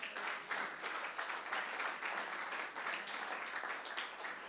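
A church congregation applauds during a sermon, a dense, sustained wash of clapping from many hands that runs steadily throughout without any speech over it.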